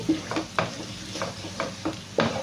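Egg masala fries in a pan with a soft, low sizzle, broken by a few rhythmic scraping and tapping strokes of a spoon against the pan, close and fairly quiet.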